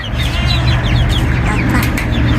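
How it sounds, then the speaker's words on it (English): Chickens cluck and chirp in a steady, busy chorus close by inside a coop, with a constant low hum underneath throughout. "the chickens are doing good and they're happy in the coop"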